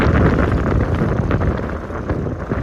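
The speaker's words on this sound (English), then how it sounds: "Yeah, it's a bit windy today." Steady, loud wind buffeting the microphone at a desert campsite, a broad low rumble with gusty swells and no voices.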